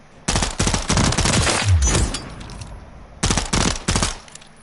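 Rapid automatic gunfire from Call of Duty: Modern Warfare III, two loud close bursts of fast rattling shots separated by a brief pause, with no talking.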